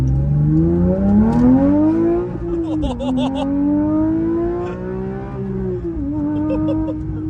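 Crash-damaged and rebuilt Porsche 911 GT3 engine revving in sport mode, a loud rising and falling engine tone that climbs, dips, and holds high while driving, with brief clicks on top.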